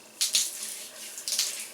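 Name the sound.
squelching water-soaked hair while product is worked through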